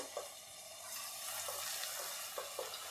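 Corn bhajiya batter spoon by spoon into hot oil on a low flame, giving a dense, steady sizzle with soft bubbling and small crackles close by.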